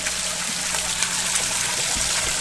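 Fresh, unchlorinated well water pours from an opened valve into aquaponics tanks, a steady rushing flow that holds even and continuous throughout with no talk over it.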